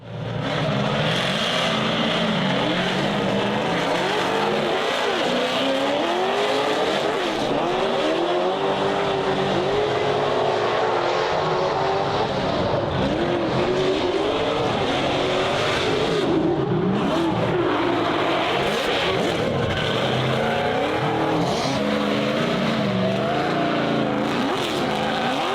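A drift car at a competition, its engine roaring and revving nonstop with shifting pitch and tire squeal, loud and close throughout the spin-out.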